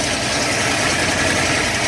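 A 455 cubic inch V8 with two 850 CFM carburetors runs at a steady idle, a loud, dense, continuous rumble close to the microphone with no break.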